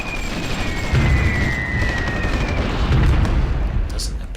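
Artillery bombardment in the Supreme Ruler Ultimate strategy game during a Brazil–Bolivia war: a loud, continuous roll of overlapping booms and rumbling blasts that never lets up.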